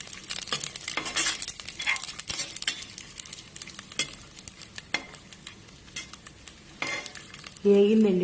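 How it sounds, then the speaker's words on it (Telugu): Cashews frying in oil in a pan for paneer pulao, a soft continuous sizzle under frequent sharp clinks and scrapes of a spoon against metal, close up, ending in a louder hissing burst. "అలాగే జీడిపప్పు వేస్తున్నాను."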